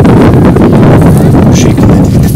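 Strong wind buffeting a microphone while a walnut sapling is planted, a loud continuous low rumble with gusty texture throughout.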